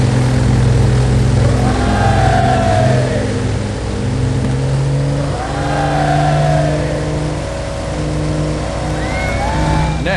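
Engines of a DH-88 Comet aircraft run loud and steady at the start of a 1934 long-distance air race, a broad continuous roar with slow rises in pitch and no voices over it.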